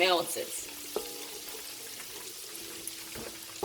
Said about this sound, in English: So melt the butter.